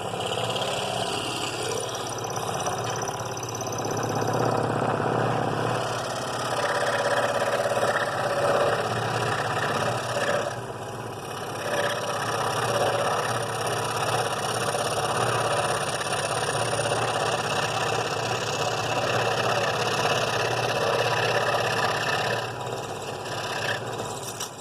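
Scroll saw blade cutting a sharp point in wood, a steady buzzing motor hum with continuous rasping of the blade, close and even for the whole stretch, dipping briefly as the piece is turned.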